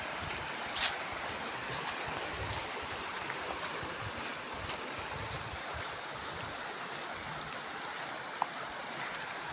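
River water flows steadily during a river crossing on a hike toward a waterfall, a continuous broadband rush with faint splashes on top and no talking.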